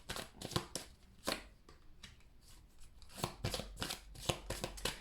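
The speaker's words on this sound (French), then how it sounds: "Je vais rajouter des cartes." Tarot-style cards are added to a spread on a table during a reading. Close, crisp slaps and shuffling flicks come in clusters, with a quieter gap in the middle, and there is no talking.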